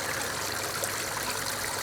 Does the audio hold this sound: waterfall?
yes